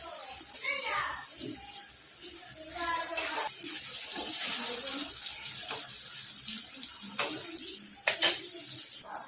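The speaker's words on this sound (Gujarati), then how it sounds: "હવે આપણે તળી લઈશું।" Pieces of leftover roti stuffed with spiced mashed potato deep-frying in hot oil, a steady, dense sizzle and hiss that continues throughout with a voice faintly underneath.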